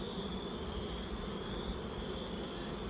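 Honeybees hum in a steady, dense drone around an open starter colony during queen rearing, many foragers in the air, continuous and close with no pauses.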